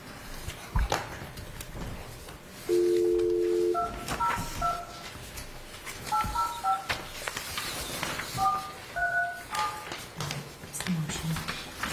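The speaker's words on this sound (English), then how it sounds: "Beth, could you dial in Bill" Telephone keypad dialing tones ring out in short bursts of paired beeps, preceded by a longer steady tone, as a phone dials into a town select board meeting; people talk faintly in the room around the tones.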